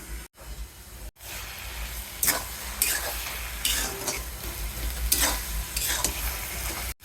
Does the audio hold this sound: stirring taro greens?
yes